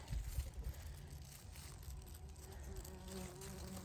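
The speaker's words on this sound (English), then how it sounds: "oh, look, bumblebee right there" Bumblebee buzzing in a garden among cucamelon plants on a sunny day: a faint continuous drone with a soft wavering hum under light outdoor rustling.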